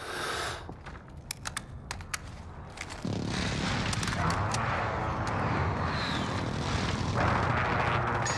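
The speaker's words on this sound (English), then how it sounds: "Friendly precision airstrike inbound." A combat aircraft roars overhead during a precision airstrike in Call of Duty Modern Warfare, a loud sustained engine rush that swells and holds after a few sharp crackling shots at the start.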